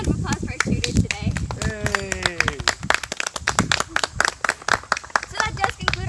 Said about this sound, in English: So round of applause for our shooters today.